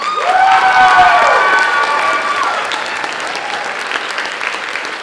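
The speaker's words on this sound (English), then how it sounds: "Let's give them one more round of applause." A high school fall concert audience applauds the music students, loud sustained clapping with a rising whoop and cheers early on, gradually thinning out over five seconds.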